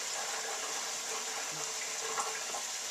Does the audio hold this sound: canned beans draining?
yes